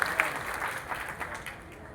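Applause from a crowd at a public inauguration event, a steady wash of many hands clapping at close range, loud at first and gradually easing, with a voice faintly heard beneath it.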